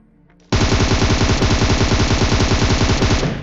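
Sustained automatic gunfire from PUBG Mobile rattles out in a rapid, even burst lasting about three seconds, loud and close, with no talk over it.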